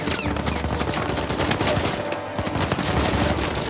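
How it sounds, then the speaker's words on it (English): Rapid automatic gunfire bursts from a firefight in the video game Uncharted 4, dense and loud, overlapping continuously for the whole stretch with heavy low thumps beneath. "Gunfight time."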